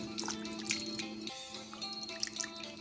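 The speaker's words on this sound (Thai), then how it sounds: "ล้างขนมจีนก่อน" Thai rice noodles (khanom jeen) being washed by hand in water, soft close splashing, dripping and sloshing in irregular bursts, quiet and without talk.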